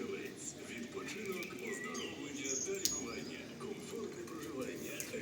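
Birds chirp and trill steadily in the background, with a pigeon-like coo mixed in, over a low wash of ambient noise, at a pump room in Truskavets, Ukraine, after light rain.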